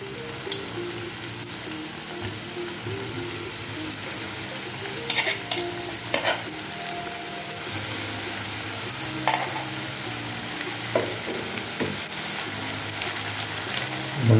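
Coated ripe banana pieces deep-fry in hot oil, making a continuous bubbling sizzle with occasional light clinks as more pieces go in.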